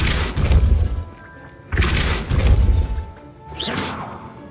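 The Depulso spell from the Hogwarts Legacy video game fires in three forceful bursts, each a rushing whoosh into a heavy booming impact with crashing debris, loud and punchy with brief gaps between.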